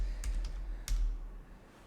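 Keystrokes on a computer keyboard while typing a terminal command, a few soft clicks close by, no talking.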